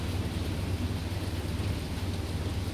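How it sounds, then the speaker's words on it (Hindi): Steady heavy rain falling in Jeddah, a dense continuous hiss with low rumbling, even and unbroken throughout, with no voices. "अब थोड़ी कम हो रही है, अब बारिश कम हो रही है"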